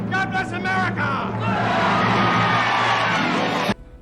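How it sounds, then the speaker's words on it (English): Crowd in the film Dave cheering and clapping, a dense sustained roar of many voices that swells after an opening shout and cuts off abruptly near the end. "Just rows of people just waving and clapping and just generally loving me."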